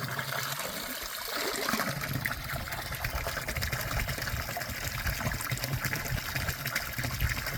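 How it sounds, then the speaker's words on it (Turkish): Cold mountain spring water trickles and splashes steadily near the Acembol lakes high in the Torul, Gümüşhane mountains. The gushing is continuous, close and fairly loud, with no voices. "Ama burada bir su bulduk."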